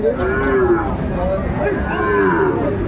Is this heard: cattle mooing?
yes